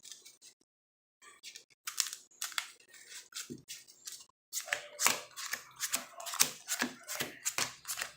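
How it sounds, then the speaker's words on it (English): Large deck of over 40 trading cards being power shuffled, heard as close, crisp bursts of riffling and snapping card noise, sparse at first and then coming in rapid clusters with short gaps between them. "we're going to do a power shuffle"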